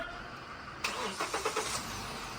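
Hyundai Accent engine cranking with a quick series of rhythmic starter pulses, then catching into a running idle, close by with no talk.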